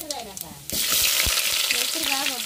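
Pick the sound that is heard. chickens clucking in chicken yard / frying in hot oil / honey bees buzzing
frying in hot oil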